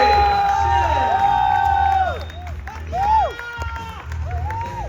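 Excited crowd cheering and shouting at a boxing weigh-in, a steady loud roar of many voices with a sustained yelled tone, fading and swelling in waves, with an announcer's voice over it.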